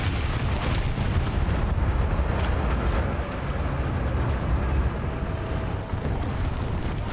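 Artillery strike explosions in the War Thunder video game, a continuous heavy low rumble of booming blasts that stays loud and dense throughout with no clear gaps between impacts.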